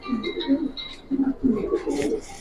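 Giribaz pigeons cooing at close range, short throaty coos in uneven bursts, with other bird chirps and background murmur mixed in.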